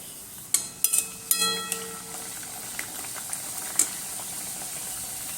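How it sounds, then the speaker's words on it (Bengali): Luchi puris dropped one by one into hot oil, giving sharp sizzling crackles at the start that fade into a low, steady bubbling hiss with occasional pops. "এবার এক এক করে লুচিগুলো আমি ভেজে নেব।"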